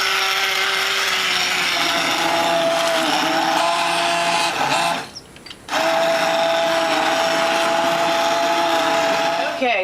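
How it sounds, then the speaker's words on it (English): An immersion blender pureeing a spicy tomato bisque whirs loud and close, one long steady run with a brief pause before restarting, pitch wavering slightly as it works through the soup. "now I'm going to take my immersion blender and I'm going to puree this until it's a nice smooth consistency"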